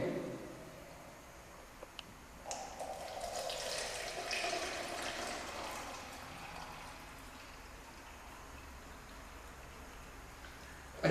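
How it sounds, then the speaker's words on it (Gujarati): Water poured into an overflow vessel for a displacement experiment, a soft splashing pour that starts abruptly after a couple of seconds, swells, then fades into a gentle trickle at low volume. "હવે આ સ્થળાંતર પાત્રની અંદર આપણે પાણી લઈએ"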